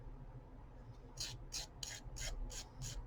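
A nail file rasps against the edge of a paper charm in a quick series of about seven short, close scraping strokes over a faint background hum.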